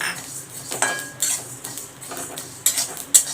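Whole coriander seeds being dry-roasted and stirred in a pan, with a metal spoon scraping and clinking against the pan in irregular, fairly close taps and scrapes, no talking.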